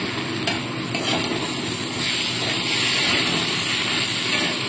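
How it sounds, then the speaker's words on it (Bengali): Onions and freshly added tomatoes frying in a pan for a spicy mourola fish curry, a loud continuous sizzle and hiss with stirring scrapes close by, no talking. "টমেটো দিয়ে একটু নাড়াচাড়া করে নেব।"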